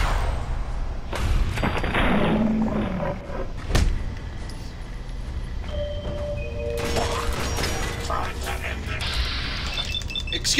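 Gunfire in Fallout 4 mixed with booming thuds and mechanical clanks of combat, dense and loud throughout, with a sharp impact near the middle.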